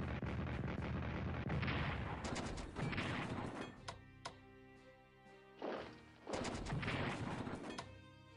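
Artillery barrages in the WW2 strategy game Strategic Command: repeated booming volleys in clusters, with quieter gaps and sharp single hits in between.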